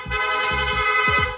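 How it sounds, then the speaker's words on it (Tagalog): A motorcycle dual horn on a Honda ADV160 blares in a rapid series of short honks, loud and close, with a steady high tone sustained underneath. "Long press lang po natin yung horn switch, yung busina natin, magsusunod-sunod na po yan"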